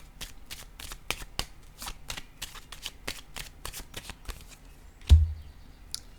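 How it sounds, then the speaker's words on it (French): Tarot cards are shuffled in a quick run of crisp riffling flicks, followed by a single soft thud as a card is set down on the table, close and clear with no voices. "Je vais déposer une carte sur le gain ici."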